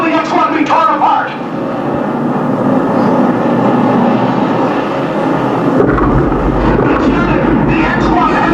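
The Bell X-1 rocket aircraft reaches critical speed in a film soundtrack, a loud continuous roaring rumble with dramatic swells, sustained throughout with a deeper surge in the final seconds.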